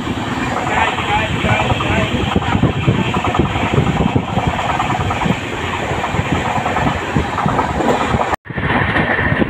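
A train pulls into Bardhaman Junction, a loud, continuous rumble and clatter of railway wagons close by that briefly drops out near the end before resuming.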